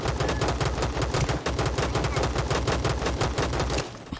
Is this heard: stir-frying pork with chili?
no